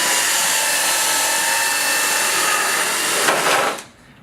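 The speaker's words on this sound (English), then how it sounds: "Alright, so I've drilled my hole." A power drill fitted with a hole saw cuts through an enclosure wall, a loud, steady whining grind held for several seconds before stopping abruptly.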